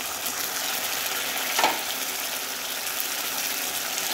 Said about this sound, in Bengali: পেঁয়াজ বাটা, এটা ভেজে নেব।